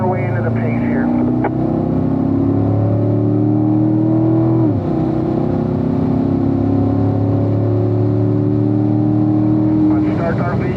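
A 2017 Corvette Stingray C7 Z51 drives a race track, its engine droning loud and steady with rising pitch through the gears and a brief shift dip, while a voice talks over it throughout.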